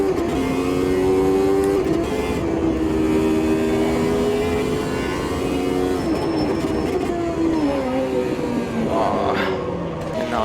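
Formula race car engine in Automobilista 2 at Hockenheim, a loud sustained whine that rises and falls through gear changes over a steady rumble, running continuously and close throughout.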